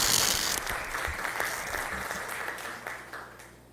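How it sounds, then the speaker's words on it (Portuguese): Audience applause at a solemn city council session honoring Professor Alaide with Aracaju citizenship, a dense wash of many hands that gradually fades toward the end. "E palmas para a professora Alaide."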